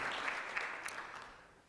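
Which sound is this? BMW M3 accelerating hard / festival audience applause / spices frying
festival audience applause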